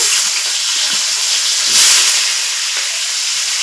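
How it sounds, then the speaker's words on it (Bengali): Chopped onion and tomato frying in a pan for a fish curry, a loud, constant hiss and sizzle that swells briefly midway, close up with no talking. "এখন লাল করে ভেজে নিব পেঁয়াজ টমেটোগুলো"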